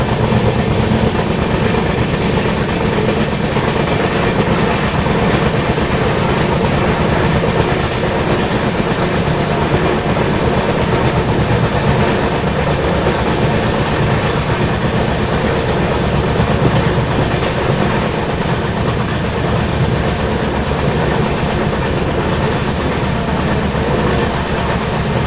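Brahmaputra Mail passenger train running along curving track through hilly country, a steady loud rumble of wheels and carriages with faint clickety-clack, continuous and close for the whole stretch, no voices.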